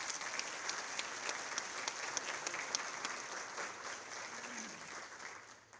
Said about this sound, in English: A round of applause for you, students, for working hard for scholarship dollars.